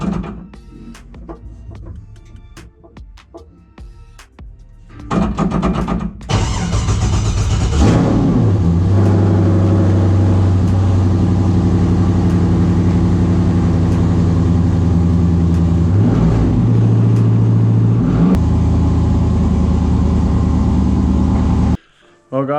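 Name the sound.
LS V8 engine starting and revving in car on jack stands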